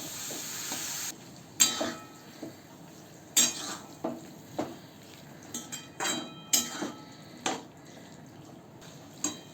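Chickpeas and yogurt are stirred together in a pot, with a low simmering sizzle under a regular series of spoon scrapes and sharp metallic taps against the pot's side.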